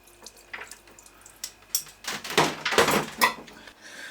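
Compressed air blowing coolant off a metal lathe, heard as irregular hissing, spraying bursts that swell and fade over a few seconds, close and moderately loud.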